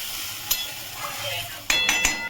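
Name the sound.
water added to a sizzling pan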